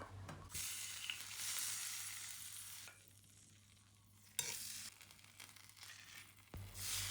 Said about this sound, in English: Pan fry the pork belly on one side.